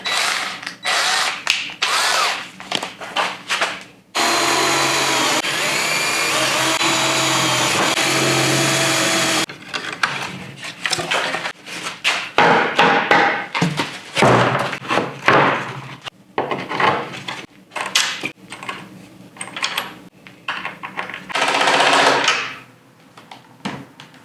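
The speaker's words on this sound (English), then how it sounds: "we're gonna drill holes in it" A power drill whirs in bursts, with one long sustained run boring holes through material for a removable dog seat in a Polaris vehicle amid shorter revs and clunks, close and loud.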